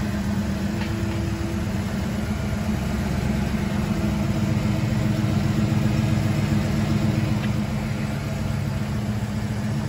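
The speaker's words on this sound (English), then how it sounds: "Go ahead, Vince, fire it up." A 1993 Ford Mustang Cobra with about 9,000 miles settles into a steady idle after a cold start, a low, constant engine rumble that holds even throughout, with no voices.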